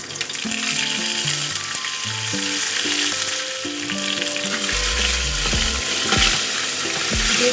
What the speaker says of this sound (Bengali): যেহেতু আদা কাঁচা লঙ্কার পেস্টটা দিয়েছি তাই এটা একটুখানি ছিটিয়ে গেল